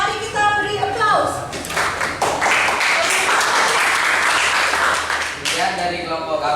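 Classroom applause during a teacher-training session, dense broadband clapping from a group building to a steady roar for several seconds, with speech before and after the clapping.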